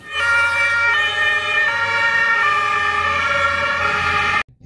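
A toy ambulance siren wails loudly and close, a steady electronic tone stepping between pitches for over four seconds before cutting off abruptly.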